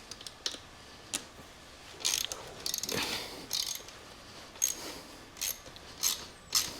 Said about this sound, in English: Just got a 10mm on the short extension, getting up under here. Left to loosen